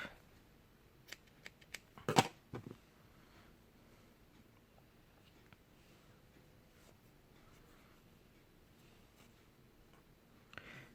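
Scissors snip yarn while crocheting an owl-shaped sleep mask, a short cluster of crisp close cuts near the start in a quiet room, with a faint snip near the end.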